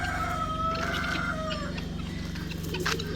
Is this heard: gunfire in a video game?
no